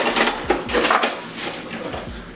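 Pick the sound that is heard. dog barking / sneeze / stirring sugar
stirring sugar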